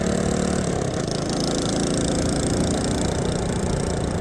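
A Honda RS150 motorcycle engine idles near and loud on Caluya Island, Antique, holding a constant, unbroken rumble throughout.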